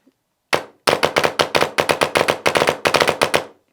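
An electronic paintball gun fires rapid semi-auto bursts from a double trigger, about sixteen sharp, loud, close-up shots in uneven clusters over roughly three seconds, with no voices.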